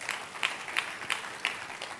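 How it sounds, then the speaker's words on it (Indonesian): A church congregation claps during a Pentecostal service, a fairly faint run of evenly spaced, rhythmic clapping bursts with no talk over it. "Tepuk tangannya yang meriah buat Tuhan kita"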